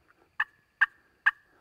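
Three sharp, evenly spaced clucks from a turkey call imitating feeding turkeys, close and clear with silence between them.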